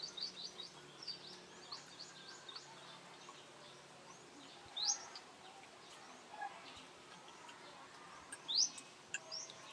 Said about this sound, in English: Do you hear the breeze or the birds? There are so many birds here.